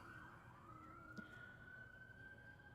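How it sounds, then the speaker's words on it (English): An emergency vehicle siren wails steadily across New York City, faint and distant, over a low rumble of city traffic with a brief knock partway through. "listen to the lovely sounds of the sirens of New York City"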